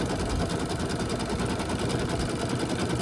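An embroidery machine stitches an outline in brown thread onto cork in a 4x4 hoop, giving a steady, fast, buzzing mechanical patter that continues throughout at moderate level.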